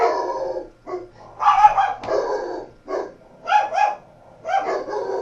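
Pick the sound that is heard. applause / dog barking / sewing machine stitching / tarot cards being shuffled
dog barking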